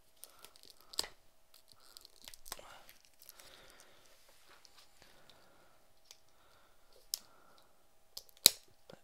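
A Kaijudo battle deck package is opened by hand, quiet crinkling plastic and scattered sharp clicks and tearing sounds, close and mostly faint with a few louder snaps.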